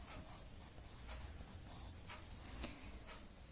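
A pencil writes words on a Hindi worksheet, producing steady, close scratchy strokes in short bursts, with no talking.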